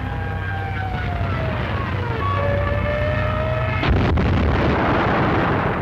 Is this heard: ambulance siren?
no